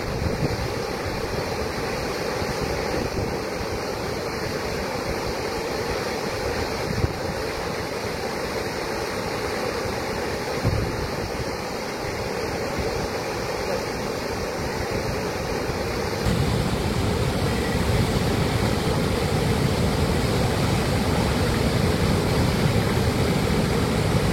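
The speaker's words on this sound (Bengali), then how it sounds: "ড্যামে জল ছাড়ার দৃশ্য।" Released water thunders through the sluices of Maithon Dam in a constant, heavy roar, with wind buffeting the microphone and the rush growing louder toward the end.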